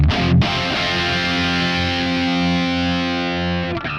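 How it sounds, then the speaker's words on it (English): A heavily distorted electric guitar played through a Diezel amp profile on a Kemper Profiler rings out as a loud, thick chord that sustains for several seconds before being cut off. "actually that's the Diezel tone, you know, from records and stuff like that"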